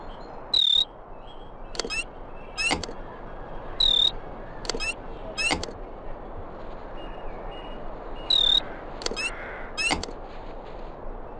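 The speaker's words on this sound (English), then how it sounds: "Oh man, now there's crickets everywhere!" Crickets chirp in the PS1 game Disney's Story Studio Mulan, several sharp chirps repeating at uneven intervals over a steady ambient background with no talk.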